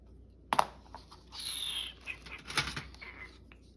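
Scissors cutting paper for a junk journal, a few quick close snips and papery swishes with short rustles in between, faint overall in a quiet room.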